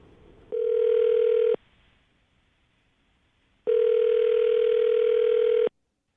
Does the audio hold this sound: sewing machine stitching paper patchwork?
no